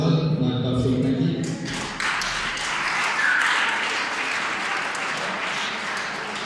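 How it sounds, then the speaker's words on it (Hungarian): A Hungarian school rockabilly event crowd claps for a band musician, a full burst of applause rising as music ends and carrying on steadily, with a presenter's voice over part of it. "nagy tapsot neki"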